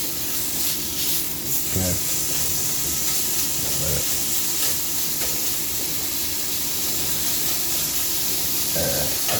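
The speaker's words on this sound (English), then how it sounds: "I'm really trying to brown that down and cook down that fat." Steak with chunks of beef fat sizzles and fries steadily in a hot pan, seasoned with salt and pepper, a continuous close hiss running throughout with a brief spoken word at one point.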